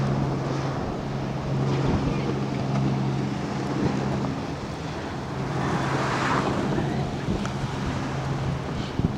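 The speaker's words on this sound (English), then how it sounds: "One of these jet boats." A jet boat engine drones steadily on the water in Australia, a loud low hum with wind buffeting the microphone and a faint rush of water running throughout.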